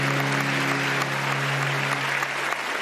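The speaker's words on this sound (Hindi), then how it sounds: "मुनीब पद के लिए बहुत सारी तालियां" Studio audience applause on a Pakistani television show, a steady, dense wash of clapping that holds loud and even throughout, with a faint tonal hum running beneath it.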